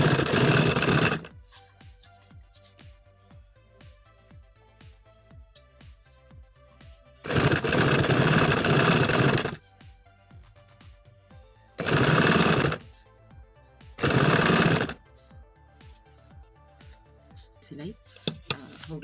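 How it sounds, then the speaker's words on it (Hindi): A sewing machine stitches narrow piping onto the collar band of a baby boy's kurta, running in three loud, steady bursts of about two seconds each, with quieter pauses between. "और फिर ये सिलाई इसके ऊपर इस तरह से लगाई जाए।"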